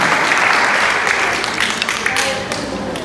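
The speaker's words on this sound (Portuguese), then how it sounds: "Agora aplaude isso, aplaude que isso também é verdade." A church congregation applauds during a Catholic sermon: steady, dense clapping from a large crowd fills the whole stretch, loud and close, fading slightly toward the end.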